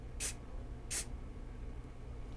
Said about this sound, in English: I like to use the accelerator spray just because it makes it instant